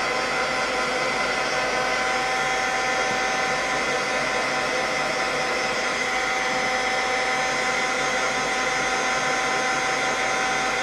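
A heat gun or hair dryer blows hot air to loosen a stubborn wooden rubber stamp, a loud, continuous, steady whooshing roar, close up with no talk.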